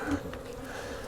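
Honey bees buzz around an opened hive box with an inner cover during a beekeeping inspection. The hum is close and steady throughout.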